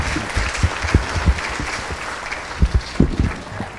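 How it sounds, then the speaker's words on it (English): An audience at a rural MS care event in Sioux Falls, South Dakota applauds for a doctor, a steady wash of clapping with scattered louder individual claps throughout, with no talk over it. "let's give the doctor a round of applause"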